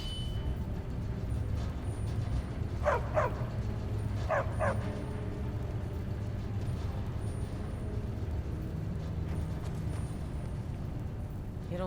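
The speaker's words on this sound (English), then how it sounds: "Don't mind the dog." A dog in the fantasy role-playing game Skyrim barks in two quick double yips, then a third bark later, all moderately near over a steady low ambient hum.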